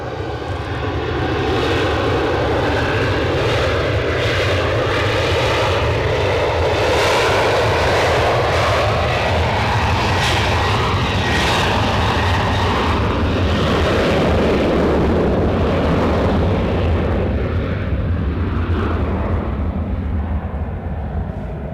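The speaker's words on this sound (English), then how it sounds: "Right, so we have a Cessna 550 Citation Bravo," A Cessna 550 Citation Bravo business jet at Edinburgh Airport roars loudly and steadily close by, its engine noise swelling and then easing slightly toward the end, with no voices.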